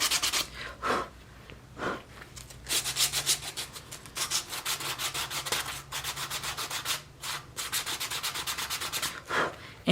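Repeated scratchy rubbing strokes of sandpaper on the edges of a leather wallet, close up, in steady back-and-forth bursts with brief pauses between passes.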